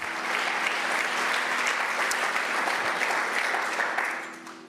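A church congregation applauds loudly and continuously, a full, sustained round of clapping that tapers off near the end, with a steady hum underneath.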